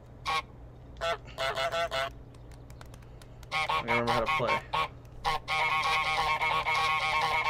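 Goose honks ring out in Untitled Goose Game, a video game, in loud bursts: scattered single honks, then a long continuous run of honking, with a voice talking over part of it.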